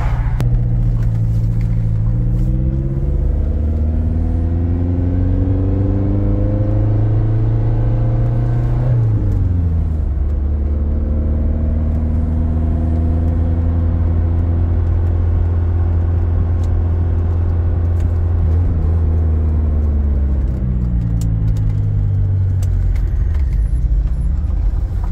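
A car drives around a large multifamily property. Its engine is heard from close by as a continuous rumble whose pitch rises and falls with repeated gear changes and acceleration, with no voices.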